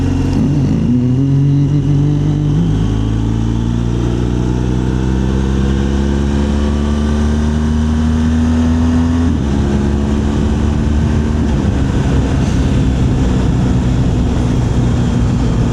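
A BMW R1200GSA motorcycle ridden along a country road, its engine droning loud and close with rising pitch as it accelerates through gears, wind rushing over it and no talk.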